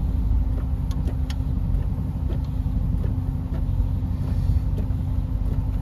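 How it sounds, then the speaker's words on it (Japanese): A 1950 Lincoln's carbureted engine with MSD ignition, ordinary plugs and freshly adjusted tappets idles steadily nearby, giving a constant low rumble with faint ticking. "アイドリングもまあそこそこ安定してて"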